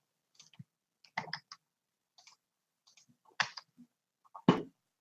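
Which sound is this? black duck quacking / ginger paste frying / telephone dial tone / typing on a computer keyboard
typing on a computer keyboard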